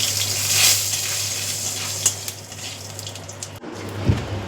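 Whole cumin seeds sizzle in hot oil with a steady frying hiss, punctuated by a few sharp pops and clinks, alongside a low constant hum.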